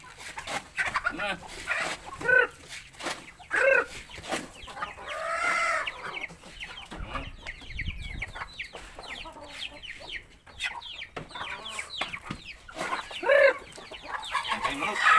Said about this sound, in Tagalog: Doon yung mga manok, nagugutom na sila.